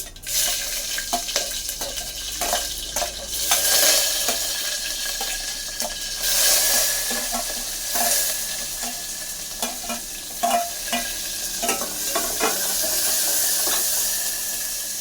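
Onions, green chillies and peanuts fry in oil for tomato rasam, a close continuous sizzle broken by repeated stirring scrapes and clatters, with some running water in the background.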